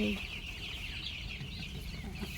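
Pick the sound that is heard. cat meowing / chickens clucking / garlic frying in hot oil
chickens clucking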